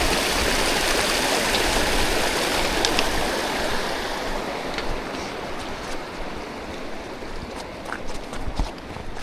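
Mountain stream rushing on the Kungsleden trail between Hemavan and Syterskalet, a loud, steady broadband flow of water close by with no talking.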